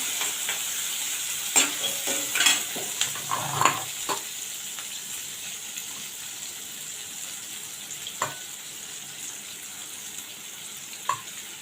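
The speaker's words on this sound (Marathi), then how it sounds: "कांदा घालते हा आणि त्याबरोबर कढीपत्ता पण घालते ते चांगले परतून घेऊया" Onion and curry leaves sautéing in a pan for a Konkan-style black pea sambar, a soft steady sizzle with scattered scraping stirs clustered early, then a few isolated clinks later on.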